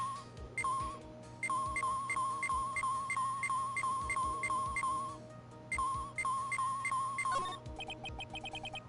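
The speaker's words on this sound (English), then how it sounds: "But the detector is reacting to it." An evidence detector in the Ace Attorney video game reacts with rapid, evenly spaced electronic beeps in long bursts, pausing briefly between runs before a faster flurry of chirps at the end.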